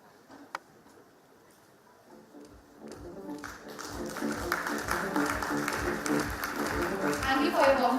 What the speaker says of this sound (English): a huge round of applause and please welcome Dr. Pramod English sir